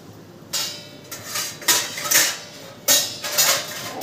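Metal pot lid set onto a cooking pot over a low gas flame while besan vadi cook, giving several bright clanking contacts in quick succession, close and fairly loud in a quiet kitchen.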